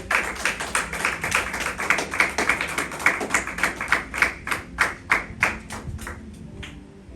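A church congregation clapping to acclaim the Lord, with rhythmic, steady group claps in a quick regular beat that grows sharper and more distinct toward the end, then fades, with no voices on top.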